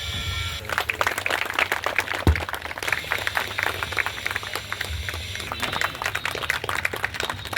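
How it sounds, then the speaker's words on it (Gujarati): A village crowd at a public event applauds to welcome their sarpanch, with dense, steady clapping that continues throughout at moderate distance, over a little background murmur. "આપણે સૌ તાળીઓના ગડગડાટથી વધાવી લઈશું"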